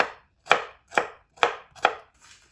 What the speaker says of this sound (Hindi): इसके भी आपने इस तरह छोटे छोटे पीस कर लेने।